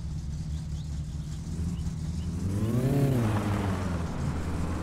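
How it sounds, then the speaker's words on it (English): Car engine in the driving game My Summer Car revs up steadily, pitch climbing to a peak near the middle then easing back, with a constant low idle drone underneath and no talk. "You really got to rev this thing up to not kill it with the clutch."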